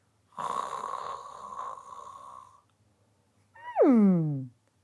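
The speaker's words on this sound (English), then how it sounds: "she looked at Louis snoring with his mouth open" A cartoonish snore: a long, nasal rumbling inhale, a short pause, then a whistling exhale that slides downward in pitch.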